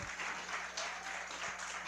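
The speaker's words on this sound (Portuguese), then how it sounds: "Pode aplaudir o Senhor, irmão." Church congregation applauding during a service, steady distant broadband clapping, fairly faint, with no talk over it.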